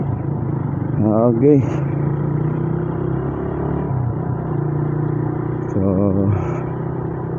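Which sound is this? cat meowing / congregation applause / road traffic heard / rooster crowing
road traffic heard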